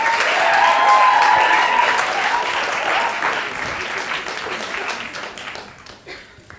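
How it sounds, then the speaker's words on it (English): An audience applauds the Editor-in-Chief candidates at a question-time event. The dense clapping is loud and sustained, then gradually thins and fades toward the end. "big round of applause for the candidates for the Editor-in-Chief role as well"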